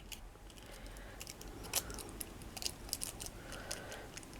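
Small tiny scissors snipping loose bits of glued eggshell chips in a mixed media craft, a series of quick crisp clicks scattered irregularly over a faint background hiss, close and light, with no talking.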